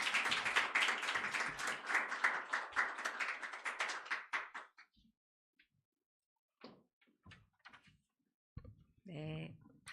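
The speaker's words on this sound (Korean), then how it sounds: "환영의 박수 같이 주세요" A church congregation claps in welcome of the preacher, loud and steady for about four seconds, then thins to a few scattered claps and taps before a voice speaks.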